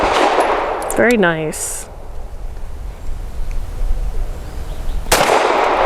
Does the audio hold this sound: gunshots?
yes